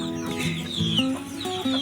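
Shamo chickens in a backyard pen cluck and squawk repeatedly at close range, with overlapping calls from several birds and a faint rustle, no talking.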